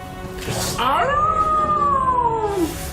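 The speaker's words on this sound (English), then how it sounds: "you hear this howl of pain" A dog howls in pain with one drawn-out, wavering cry that rises and then slowly falls. It is loud and close, and a short rough burst comes just before it.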